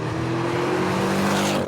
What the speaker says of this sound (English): I quite like the little growl that you get when you put the hammer down.